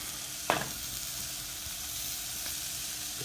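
Turkey testicles frying in a pan with paprika and onions, a soft constant sizzle with a sharp clack of a utensil near the start, quiet and close with no talking.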